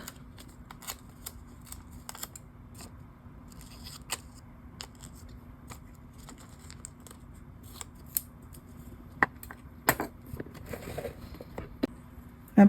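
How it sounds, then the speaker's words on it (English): Scissors cutting paper flowers in half, a series of crisp close snips and rustles at irregular intervals, quiet and without talk. "So I'm going to cut these in half."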